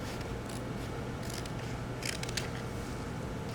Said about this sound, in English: I'm just going to cut off this piece here.